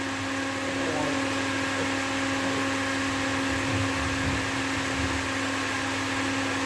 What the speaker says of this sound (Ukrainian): Надо було виключити вентилятора, це зверху, який роздивує воздух